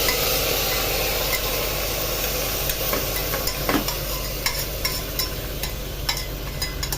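Marinated mutton pieces fry with golden-browned onions in a loud, continuous sizzle, overlaid by repeated scraping and clacking as a spoon stirs them in the pan.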